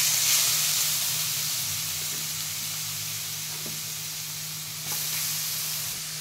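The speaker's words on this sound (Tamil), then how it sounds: "இப்போ இந்த நெய்யிலே வந்து இந்த கேரட்டை வறுத்துக்கலாம்" Carrots fry in ghee with a continuous close hiss and sizzle, steady and even, with a low hum underneath and a slight swell near the end.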